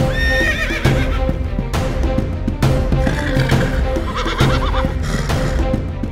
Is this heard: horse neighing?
yes